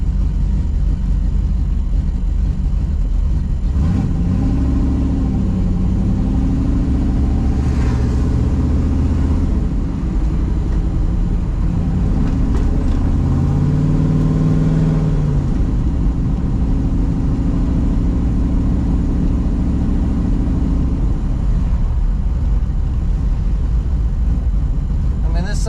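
A Ford Fairmont street car's engine pulls through city traffic, revving up and dropping through gear changes in a loud continuous drone, with occasional voice layered over the engine noise.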